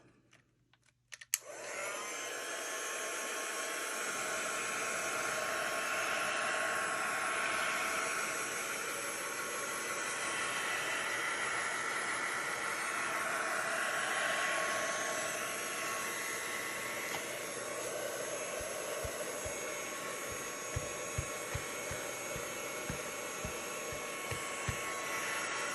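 A hair dryer blows steadily on a wet watercolor drip painting, a loud continuous whoosh running close for the whole stretch, with faint clicks near the end and no speech.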